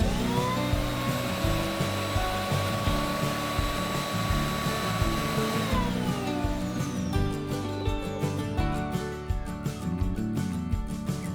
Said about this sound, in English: Here's a quick manual test of the vacuum while I was setting everything up.